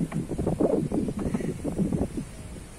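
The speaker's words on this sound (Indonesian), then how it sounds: "Angin yang sejuk" Gusty wind blows at a lakeside and buffets the microphone in uneven, close rumbling surges with no voices.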